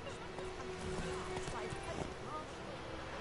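Roach the horse from a video game walks with steady clip-clop hoofbeats and gives a whinny, while a voice talks over the hooves.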